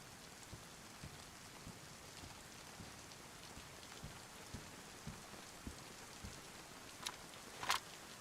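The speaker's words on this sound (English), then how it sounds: "So it's raining, so they won't hear me." Rain falls in the DayZ video game as a soft, steady hiss of raindrops, with faint scattered taps and a couple of sharper drips near the end, with no talk.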